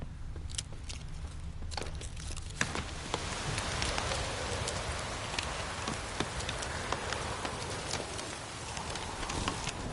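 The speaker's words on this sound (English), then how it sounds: "It's drizzling." Light drizzle in The Witcher 3: Wild Hunt, a steady soft patter of rain on surfaces with occasional louder drops and faint rustle, continuous throughout.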